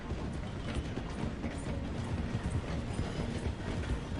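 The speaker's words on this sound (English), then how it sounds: "The train is slowing down to go through the station." A steam train in Red Dead Redemption 2 slows as it passes through a station, making a dense, continuous, loud rumble and rattle of wheels and cars with faint clacking throughout.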